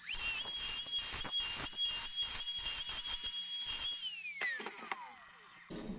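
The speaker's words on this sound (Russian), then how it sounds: "Все, заряжаю сейчас в болгарку." An angle grinder fitted with a coarse wood-removal disc spins up and cuts into wood for a carved chest, a steady high whine with rough grinding bursts, then winds down and trails off near the end.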